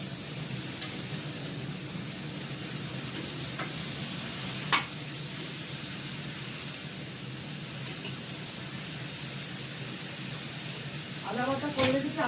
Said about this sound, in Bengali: এটাকে আমি নেড়ে চেড়ে দিয়ে ঢাকা দিয়ে দেবো